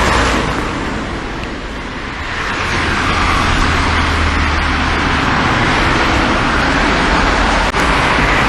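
Steady road traffic rolls past outdoors in a continuous, fairly loud wash of tyre and engine noise, with a brief sharper sound near the end and no talking.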